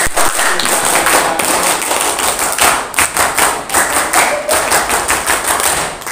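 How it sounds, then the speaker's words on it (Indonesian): A group of scouts performs the rhythmic Pramuka scout clap, loud sharp claps and slaps in a patterned beat repeated over a few seconds, close and energetic, with no voices. "2 kali tepuk pramuka."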